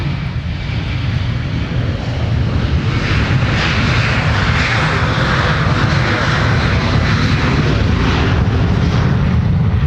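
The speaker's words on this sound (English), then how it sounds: "here's Delta 1055 taking to the runway for Fairbanks" A Delta airliner bound for Fairbanks, Alaska rolls onto the runway at Minneapolis–St. Paul airport, its jet engines a loud, sustained roar that holds steady and slightly swells for ten seconds, with no talk over it.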